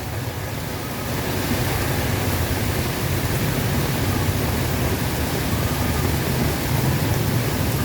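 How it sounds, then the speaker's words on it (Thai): Heavy rain pours down steadily as a dense, constant hiss, close and loud throughout, with no voices. "ได้ชมบรรยากาศ บรรยากาศฝนตก"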